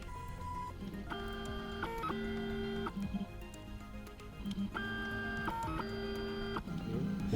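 A Charles Ischi P Series laboratory tablet testing system running a test, with repeated electronic beeping tone patterns over soft mechanical whirring and tapping, fairly quiet and close.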